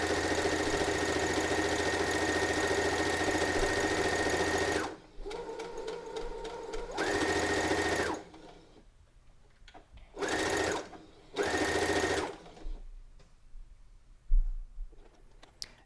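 A Brother sewing machine runs test stitches, a long steady whirring burst first, then several shorter runs with pauses of near silence between them, close and moderately loud.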